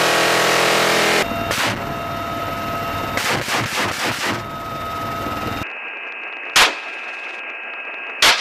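Aboard the USS Green Bay in an amphibious exercise, a naval ship's gun fires several heavy bursts over a continuous engine and radio hum, and a single louder boom stands out later against quieter background.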